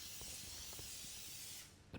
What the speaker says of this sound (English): we're just going to give it a light spray